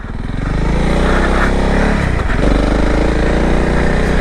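Honda CRF 300L motorcycle engine running steadily while being ridden over rough ground, a loud, continuous low drone with a slight dip in pitch midway before it picks up again.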